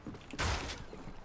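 Gunfire in the Fortnite video game comes as a brief, sharp burst of shots that stands out over a quiet background for about a third of a second, with no talking.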